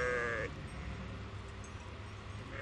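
Sheep bleat at a flock-tending farm in Brianza, Italy, a tonal bleat at the start and another at the end over steady outdoor noise.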